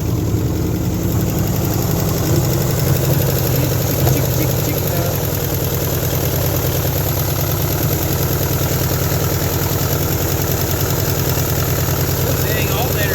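A barn-find 1972 Chevy Nova, sitting 35 years, runs with a steady, loud idle, its low engine rumble continuous and close throughout.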